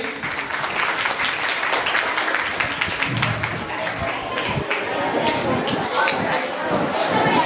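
Loud, sustained applause from a school felicitation ceremony crowd for CRC West Nipani at Pratibha Karanji 2024, with dense clapping filling the whole stretch without a break.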